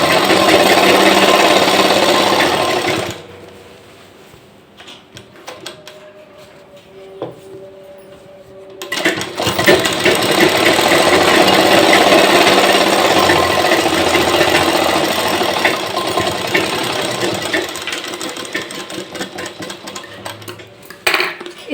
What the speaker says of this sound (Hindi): इस तरीके से देखिए पूरी इलास्टिक पे हमने सिलाई चला ली